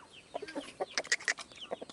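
Sasso free-range chickens clucking close by, a busy run of short, bright calls and chatter with some higher squawks, with no talk over them.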